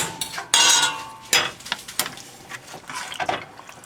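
Pasta tossed into mushroom alfredo sauce in a pan, with metal utensils clanking against the pan and wet stirring and squelching in uneven bursts, up close.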